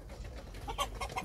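A brooding mother hen sitting on her eggs gives a few soft, short clucks, quiet and close, in a low-level setting with no talking.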